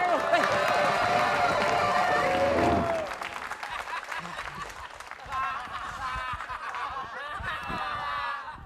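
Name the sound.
studio audience applause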